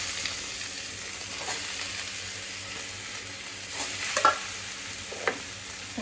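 Mashed potatoes with turmeric and a ground paste sizzle softly in a pan, with a few scraping stirs toward the end.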